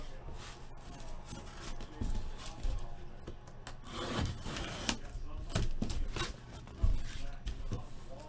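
A baseball trading card rubbed by hand for luck, a close, soft, scratchy friction of repeated irregular strokes, with someone talking faintly at times.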